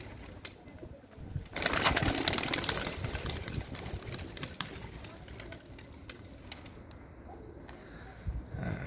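Soft pigeon cooing mingles with a steady outdoor hum and rustle, with a brief louder swell of noise early on; no talking.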